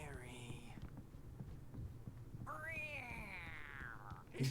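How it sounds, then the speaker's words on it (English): Two drawn-out, rising-and-falling video game cat meow calls in Alan Wake, one near the start and a longer one midway, over a low steady hum with faint background murmur. "Someone's meowing like a cat."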